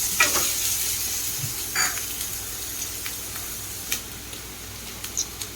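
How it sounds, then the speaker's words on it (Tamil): Finely chopped onions sautéing in a pan give off a soft, steady sizzle, broken now and then by light scrapes and taps from the stirring spoon, with no speech. "இப்போ 2 நிமிஷம் நல்லா வதக்கி விட்டுருங்க."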